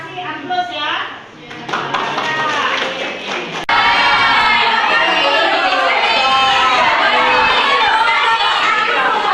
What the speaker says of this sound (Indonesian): Kita kasih aplaus ya.